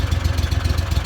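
Backwater SWOMP 40 mud motor idling at around 900 to 1,100 RPM, a close, steady low throb with a quick, even pulsing rhythm and no voices.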